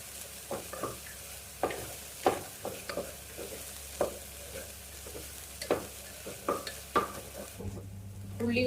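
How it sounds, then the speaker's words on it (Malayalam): Onions being stirred as they fry toward golden brown in a pan, with a steady sizzle and repeated scraping strokes of a spoon, ending in a brief louder clatter. "ഉള്ളി കുറച്ച് ഗോൾഡൻ ബ്രൗൺ ആവുന്നവരെ നമുക്കൊന്ന് ഇളക്കി കൊടുക്കാം"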